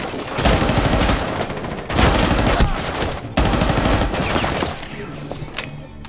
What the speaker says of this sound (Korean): 여기도 총알 날라온다